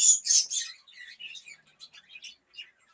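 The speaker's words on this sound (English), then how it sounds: "I had the birds in their apartments, and you guys ain't getting annoyed with the birds being so loud." Parakeets chirp and squawk close by in a rapid run of sharp, shrill calls, loud bursts at first then quicker, choppier tweets with no talk.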